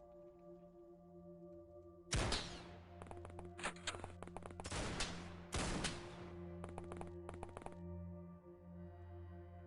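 Gunshots from a small snub-nosed gun in The Xcom Files, a strategy game: one loud opening shot, then several close bursts of sharp cracks over steady droning game music.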